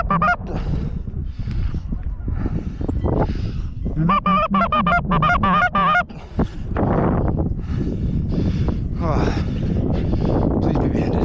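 Snow geese honk loudly and repeatedly in a dense overlapping chorus during a Wisconsin snow goose hunt in a snowstorm, close and continuous, with people's voices mixed in.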